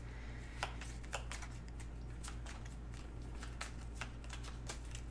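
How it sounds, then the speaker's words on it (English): A small deck of cards is shuffled in quick riffling bursts, a series of crisp flicks and snaps over a low steady hum, fairly quiet and close. "Not the best shuffling. Shuffle of champions."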